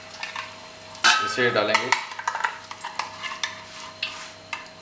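Chicken frying in a pan with curry leaves for a Gujarati chicken masala, scraped and stirred with a spoon; a loud sizzle bursts in, followed by repeated clinking stirs, with a brief spoken line near the start.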